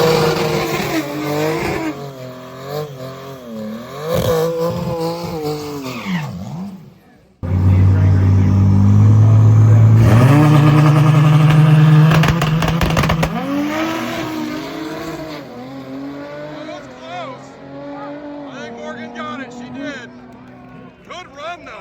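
A truck and a Fox body car launch in a drag race at Roadkill Nights, engines roaring loud and close with a brief tire squeal, then fading into the distance while an announcer talks over much of the run.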